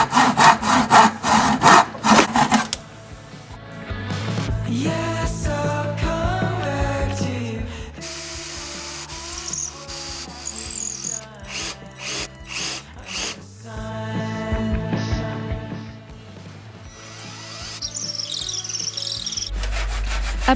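A handsaw cuts through a small wooden piece for a desk lamp frame with steady, rhythmic rasping strokes, followed by brisk scratchy sanding passes over the wood, close and loud.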